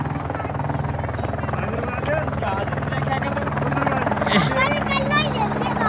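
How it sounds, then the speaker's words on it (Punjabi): A helicopter arrives at Gobind Dham on the Hemkund Sahib pilgrimage route, its loud steady rotor drone filling the air close by while people talk over it. "ਹੈਲੀਕਾਪਟਰ ਆ ਗਿਆ ਹੈ"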